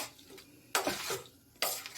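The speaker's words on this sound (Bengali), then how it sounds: "ভাজবার আগে এটা আর একবার চামচ দিয়ে ভালো করে নাড়িয়ে নেব।" A spoon scrapes and stirs a dry chicken pakora mixture in a bowl, two louder sweeping strokes with softer scraping between, close and without talk.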